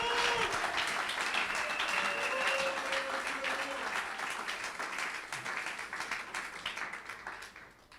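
A church congregation bursts into loud, sustained applause and clapping with scattered cheering voices, filling the room and gradually tapering off toward the end.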